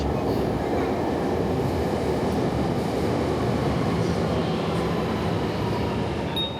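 Beijing metro train rumbling steadily along the rails, a dense continuous roar of wheels and car noise heard from inside, with faint murmurs of passengers in the background.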